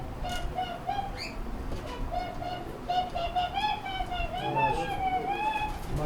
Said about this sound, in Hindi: प्योर रामपुरी कबूतर